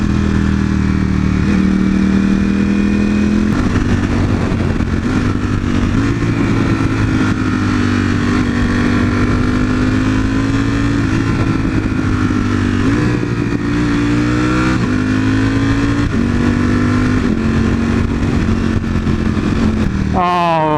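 A Ducati V4 motorcycle engine revs steadily through second gear on a road, loud and close with rising and falling pitch and a continuous mechanical roar throughout.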